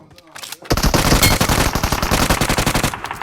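Rapid automatic gunfire from PUBG Mobile, a loud sustained burst of closely spaced shots after a brief quiet lead-in, with a voice faintly present early on.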